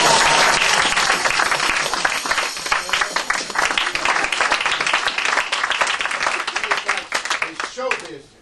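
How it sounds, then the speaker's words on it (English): Audience at the Magic Castle applauds a magic act, dense and loud clapping filling the room for about eight seconds before it cuts off abruptly. "That's how you get the applause."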